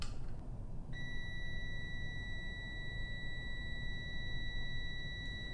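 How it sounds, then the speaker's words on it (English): A multimeter in continuity mode beeps while testing a three-phase submersible pump motor, a single sustained steady tone starting after a second and holding over a constant background hum, with no voices. "I can also tune it to continuity"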